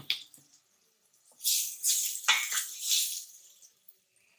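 Water is poured into a pan of frying tomatoes and moong dal, with a hissing, splashing rush in a few close bursts over a couple of seconds after a brief quiet start.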